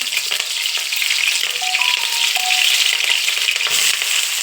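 Chopped onions with salt and curry leaves fry in a pan, giving a loud, continuous hissing sizzle with faint stirring underneath and no voices.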